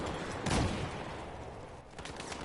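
Assault rifle fire from Battlefield 4 gameplay: a muffled, fairly quiet burst of shots peaking early, then a softer rattle of distant gunfire trailing on.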